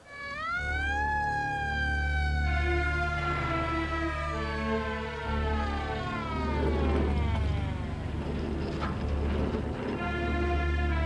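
An ambulance siren wails loudly, its tone rising and falling in repeated sweeps that carry on without a break.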